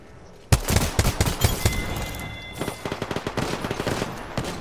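Rapid automatic gunfire in the video game Apex Legends bursts out suddenly and continues in fast volleys, loud and close, then thins into scattered shots.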